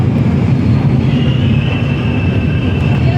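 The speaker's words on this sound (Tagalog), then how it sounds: "Stop the train!" Train running with a steady, loud rumble that fills the whole stretch, plus a faint high squeal partway through, with no talking.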